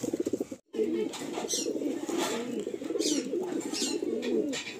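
A male pigeon coos steadily in a loft, its throaty, rolling calls continuing close and clear for several seconds after a brief pause, with faint wing flutters behind.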